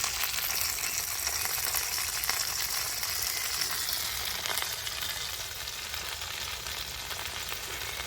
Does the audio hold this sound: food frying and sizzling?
yes